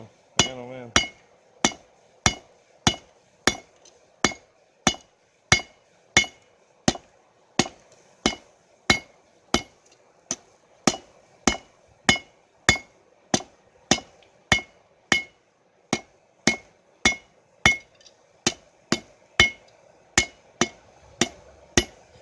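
Blacksmith hammering metal on an anvil while drawing out stock into a hook, sharp ringing blows in a steady regular rhythm, about one to two per second, close and clear with no voices.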